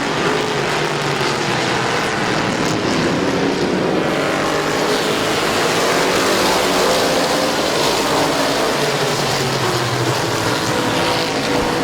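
Race cars at Midvale Speedway roar loudly and continuously as a pack, with engines droning and shifting in pitch as they sweep through the turns, and no talking.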